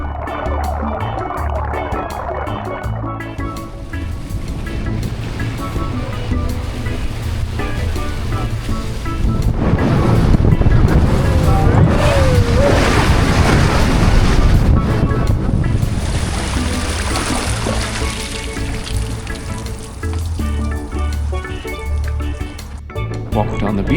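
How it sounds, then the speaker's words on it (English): A boat out on open water after Christmas, with steady rushing wind and waves slapping the hull in a loud, continuous wash, swelling midway through. "We went out on the boat."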